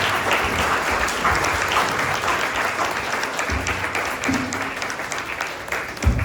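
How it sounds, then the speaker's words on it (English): A meeting audience gives a long, sustained round of applause for the women of Hope House, an emergency shelter, with dense clapping throughout and a few faint voices and cheers mixed in. "I would like to ask you guys to join me in giving an incredible round of applause for these ladies"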